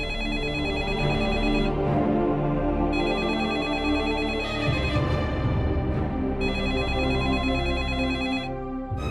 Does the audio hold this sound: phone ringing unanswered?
yes